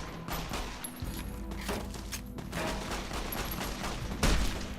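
Gunfire in the video game Fallout New Vegas, a steady fusillade of shots running through the whole stretch with a busy mix of game sounds, ending in a louder burst near the close.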